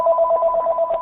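A telephone ringing loudly and close, its steady electronic tone sounding without pause for the whole moment, with nobody speaking.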